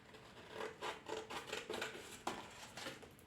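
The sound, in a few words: cutting out a paper image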